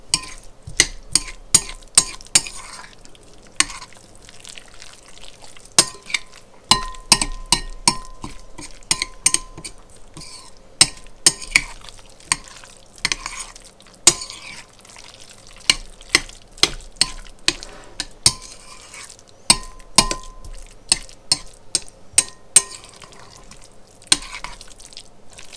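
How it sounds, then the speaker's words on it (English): A spoon clatters repeatedly against a bowl while guacamole with lime juice is stirred, sharp close clinks and knocks coming in uneven bursts with short wet pauses between, and no talk. "I'm going to give this a stir."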